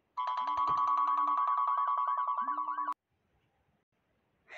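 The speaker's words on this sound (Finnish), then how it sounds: "Mulle vaan soitetaan koko ajan." A phone rings with a loud, steady electronic ringtone for about three seconds, then cuts off abruptly into near silence, with no talk over it.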